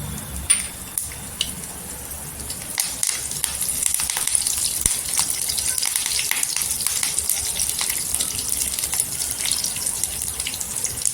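Garlic fries in hot oil with spluttering mustard seeds and cumin for lasuni bhendi masala, a dense close sizzle with crackling pops and stirring sounds throughout.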